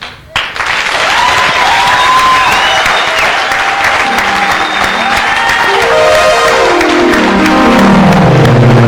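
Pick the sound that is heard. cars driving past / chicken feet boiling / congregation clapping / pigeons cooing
congregation clapping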